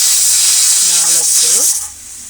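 A 7 litre pressure cooker whistling as it releases steam, a loud continuous hissing jet filling the kitchen, with a brief voice heard under it before the hiss fades.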